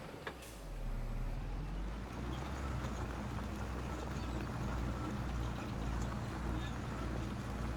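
Tractor engine in the Farming Simulator 22 video game runs as a steady low drone throughout, loud and continuous with a constant rumbling hum.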